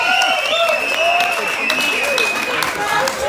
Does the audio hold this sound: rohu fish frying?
no